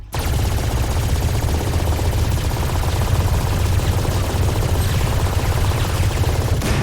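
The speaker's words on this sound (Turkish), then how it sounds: "Mermiyi sıkıyorum." Rapid automatic gunfire from the video game Valorant, a dense, continuous rattle of shots sustained loudly through the whole stretch, with faint talk mixed underneath.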